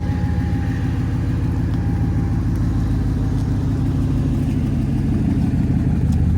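A car called Larry is driven a short way into the shade, its engine running steadily and loud up close with a low rumbling drone that holds even throughout.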